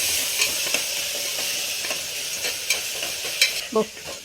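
A spoon stirs chopped tomatoes and onions frying in a pan for dal rice, with a steady sizzle and scattered soft scrapes and clinks from the spoon, heard close with no talking.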